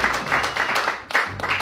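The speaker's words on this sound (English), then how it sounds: "let's applaud Esme" Audience applause at a comedy show, a steady wash of clapping from a crowd lasting under two seconds with a brief dip near the middle.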